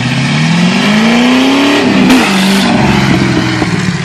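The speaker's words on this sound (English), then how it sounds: "It's a loud fox body Mustang." A 1991 Ford Mustang fox body with a new 2.5-inch off-road H-pipe exhaust revs up loudly and close, the engine climbing in pitch, peaking and dropping back to a rumbling idle.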